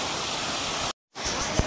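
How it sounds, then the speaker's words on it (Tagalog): Kayoufeng waterfall in southern Taiwan roars as a steady, broadband rush of falling water, briefly cut out for a moment before resuming with a soft thump near the end. "Ang ganda ng falls."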